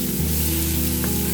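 Pork and garlic fry in a pan as tomatoes go in, giving a steady, close, dense sizzle with no voices.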